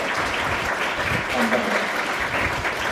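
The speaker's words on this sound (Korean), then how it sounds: "인사하시면 박수로" Steady audience applause fills a banquet hall at the opening of the World Korean Journalists Convention, a dense, even clapping from a large seated crowd with faint voices underneath.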